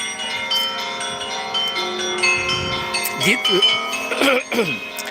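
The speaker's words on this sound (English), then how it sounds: "very cool bells" Church bells ringing on a Sunday in Kyiv, Ukraine: sustained overlapping tolling with bright sharp strikes near the end, heard under steady conversation close by.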